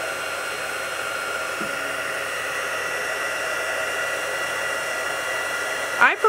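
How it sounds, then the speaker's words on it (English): A craft heat tool blows hot air steadily for embossing, a continuous close whooshing hiss that holds level for about six seconds before a short clatter at the end. "I prefer to do it from underneath so that my heat tool doesn't blow any loose particles away"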